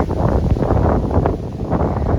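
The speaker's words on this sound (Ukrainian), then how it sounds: "Щось вітер піднявся." Rough, buffeting wind rushes against the microphone in an open field during summer ploughing, a loud continuous roar with gusty swells.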